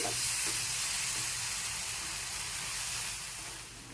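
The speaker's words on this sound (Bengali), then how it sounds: "এবার অনবরত নেড়ে চেড়ে একটু জাল দিয়ে নিচ্ছি" Palm fruit pulp and sugar stirred continuously in a pan over heat, a steady soft sizzling hiss with faint scraping that gradually quietens.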